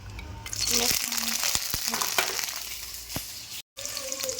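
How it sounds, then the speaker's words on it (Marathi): Loud, steady sizzling of garlic and green chillies frying in hot oil in a wok, with a few clinks of stirring and a brief dropout near the end. "लसूण आणि मिरची घातली त्याच्यामध्ये"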